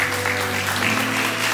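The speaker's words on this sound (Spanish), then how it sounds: "Para que pido un fuerte aplauso. ¿Dónde están los aplausos?" Guests applaud at an 18th birthday party in Aranjuez, Trujillo, with steady clapping over a sustained background of music or crowd hum throughout.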